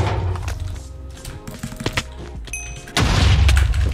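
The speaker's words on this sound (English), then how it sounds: "Now I have a railgun." Railgun fire in a video game, with loud booming shots and bursts that come irregularly through the first seconds, then a heavy sustained blast rumbling at the end.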